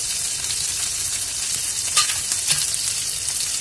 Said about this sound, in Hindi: अब हम इसमें चॉप किए हुए टमाटर डालेंगे, हरी मिर्च डालेंगे और अदरक लहसुन का पेस्ट डालेंगे